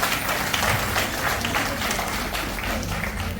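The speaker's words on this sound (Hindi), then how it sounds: "इन लोगों के लिए जोरदार तालियां होनी चाहिए" Audience applause at a health talk on the body and liver care, a steady wash of clapping held at even loudness throughout, fairly close.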